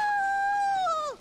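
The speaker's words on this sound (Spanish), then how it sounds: "Es el aullido de un lobo." A single wolf howl from the video game Assassin's Creed Valhalla: a clear, sustained tone held steadily before bending downward and fading at the end, fairly soft and alone.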